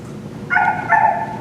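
A person imitates a dog, letting out a short two-part yelping bark at moderate loudness over a faint murmur of background noise.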